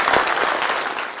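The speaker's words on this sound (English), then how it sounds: "Let's have a big round of applause." Audience applause breaks out for the winning team at a case study competition at IIM Kozhikode, a dense steady clatter of many hands held at a constant loud level for the whole stretch.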